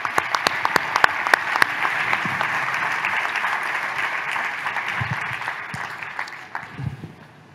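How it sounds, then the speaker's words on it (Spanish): An audience at an eCommerce conference session in Santiago applauds the panelists. Loud, steady applause with sharp individual claps near the start carries on for several seconds and then tapers toward the end. "Por favor, un aplauso para nuestros panelistas."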